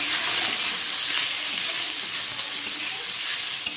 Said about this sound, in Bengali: এই যে ভেজে রাখা সব দিয়ে দিচ্ছি এর মধ্যে